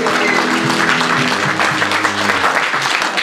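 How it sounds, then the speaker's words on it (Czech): A loud, dense burst of audience applause runs continuously at close range, a short round of clapping with no pauses. "Krátký potlesk"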